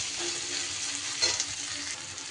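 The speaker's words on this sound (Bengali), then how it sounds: "একটু পেঁয়াজটাকে ভেজে নিতে হবে" Onions with a little salt fry in a pan, a quiet, even sizzle with a brief stirring scrape midway, close and without voices.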